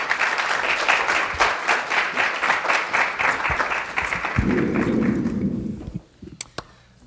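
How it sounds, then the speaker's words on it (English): An auditorium audience breaks into warm applause, many hands clapping steadily for several seconds before it fades, followed by a few scattered taps and thuds. "I'd like you to give a round of applause for Alexa Still."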